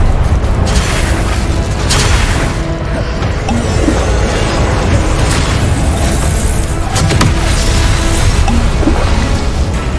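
Spellcasting combat in Hogwarts Legacy with the Incendio fire spell, continuous loud booms, crashes and bursts layered in a busy mix of game effects without pause.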